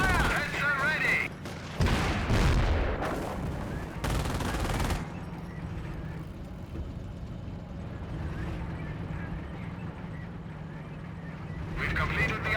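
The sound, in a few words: gunfire in Company of Heroes video game battle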